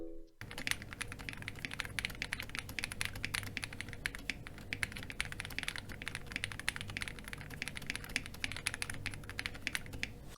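Steady, fast typing on an upgraded budget Amazon keyboard fills the whole stretch with dense, even key clacks, close and moderately quiet, with no talking.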